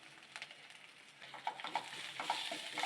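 Onion and ginger-garlic paste sauté with turmeric in a pan for pepper chicken, giving a soft, steady sizzle broken by light stirring scrapes that grow busier toward the end.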